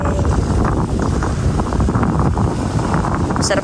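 Strong wind beside a river buffets the microphone in a continuous, loud rumbling roar with gusty fluctuations throughout.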